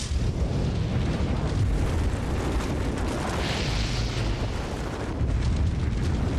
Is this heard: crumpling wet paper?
no